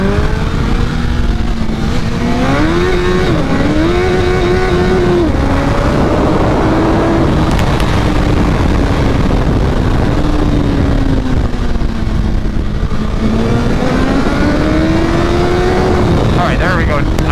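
2022 Suzuki Hayabusa with BT Moto Stage 1 flash tune and velocity stacks, steady loud engine drone rising and shifting in pitch as it pulls hard, with wind rush and a rider talking over it.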